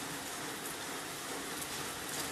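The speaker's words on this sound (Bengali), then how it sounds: "আমাদের এদিকে বৃষ্টি হচ্ছে, ভালো পরিমাণে বৃষ্টি হচ্ছে" Steady, fairly heavy rain falls outdoors as an even, hissing wash of noise from start to end, without clear individual drops and with no voices.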